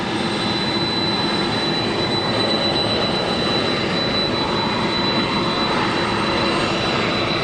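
Air Force One, a jet aircraft, at GSP Airport: a loud, steady, broadband engine roar fills the whole stretch without letup, with no talking over it.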